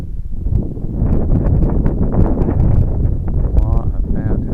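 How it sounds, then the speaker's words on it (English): Strong outdoor wind gusts buffet the microphone in a steady broadband roar, heard while a small Eachine P51D radio-controlled plane is flown, with a person talking excitedly throughout. "we're getting a good gust now"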